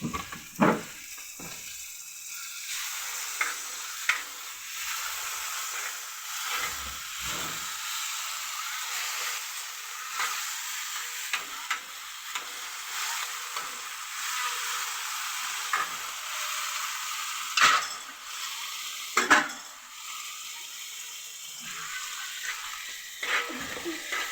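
Ingredients fry in oil in a pan for a Kannada dal sambar, giving a steady sizzle and hiss with occasional stirring clatter and scraping throughout.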